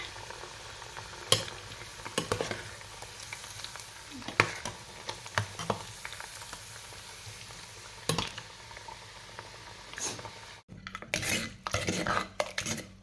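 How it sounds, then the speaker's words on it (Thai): Sun-dried beef fries in a pan with a constant hiss and crackle, broken by repeated sharp clanks and scrapes of a utensil against the pan, busier and louder toward the end. "ทอดเนื้อแดดเดียวนะคะ"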